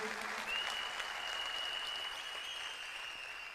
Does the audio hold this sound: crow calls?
no